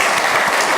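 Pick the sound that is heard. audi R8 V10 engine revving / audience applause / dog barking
audience applause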